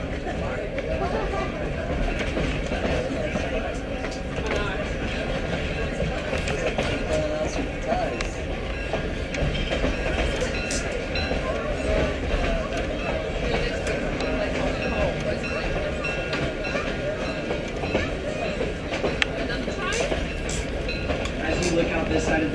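Heber Valley Railway train cars in Utah clatter steadily along the rails in a continuous rumbling roll, heard from inside a moving car with broadband noise throughout and no clear voices.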